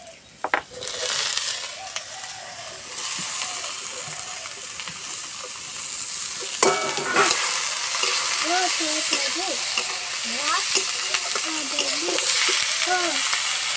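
Mixed vegetables frying in a pan and stirred, a steady close sizzle with an abrupt burst of louder hissing partway through and occasional utensil scrapes, no speech.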